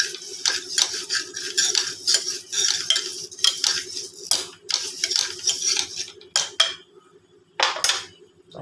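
Moong dal dry-roasting in a pan for mukkani payasam, with a spoon repeatedly scraping and clinking against the metal in steady bursts of rattling grains, close and fairly loud, trailing off into a few sparse scrapes.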